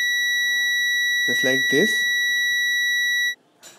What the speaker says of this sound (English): If it's beep, that means your wire is okay.